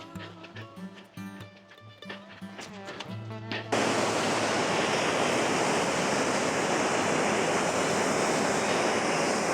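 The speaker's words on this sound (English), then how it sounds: "This will be the last of the main waterfalls today." Steady, loud rush of a waterfall in Waterfall Country, Wales, fills the second half, preceded by a few seconds of tonal music with a plucked rhythm.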